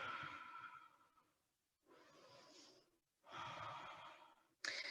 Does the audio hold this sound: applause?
no